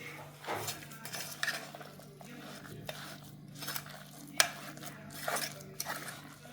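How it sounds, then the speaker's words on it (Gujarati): Soaked dal batter for Kathiyawadi bhajiya, mixed with crushed ajwain and spices, stirred in a bowl: repeated close scrapes and clinks of a spoon against the vessel in an uneven rhythm, over a low steady hum. "હવે એને આપણે ખૂબ હલાવી લેશું"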